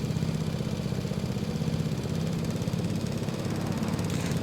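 A tractor pulling butterfly mowers in a farming video game gives off a steady, moderate engine drone that holds an even, unbroken hum with no talking.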